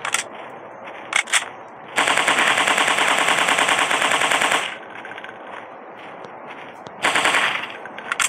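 Rapid machine-gun bursts in a 3D dinosaur hunting shooting game, with a few short shots followed by a long sustained volley and then another burst, loud and close.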